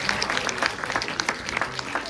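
An audience at a French university debating competition final applauds, a steady patter of many hands with a few louder individual claps standing out.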